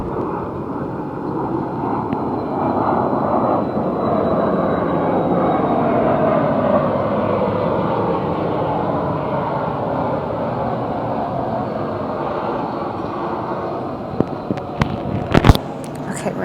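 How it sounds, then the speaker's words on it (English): A fixed-wing airplane passes overhead during an outdoor yoga session, a steady broad engine roar sustained for most of the time, fading near the end as a few sharp knocks and handling noises break through. "There's a plane coming."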